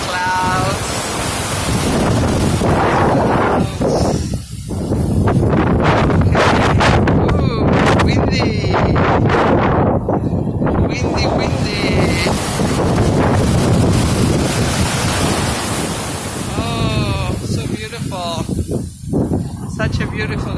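Strong, steady wind buffets the microphone with a constant roar, with the wash of waves beneath and a voice speaking now and then, on the coast at Malibu at sunset.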